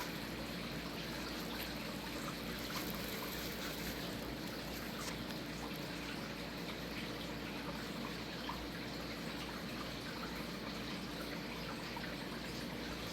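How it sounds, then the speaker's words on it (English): Creek water trickles faintly and steadily, a soft continuous wash heard from nearby outdoors with no voices over it. "get closer to the creek"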